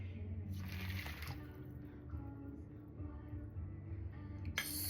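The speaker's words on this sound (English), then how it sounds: "So now we pour this into the mixture." Water is poured into a gluten-free cracker mixture, making a soft, quiet liquid trickle and splash under low background hum.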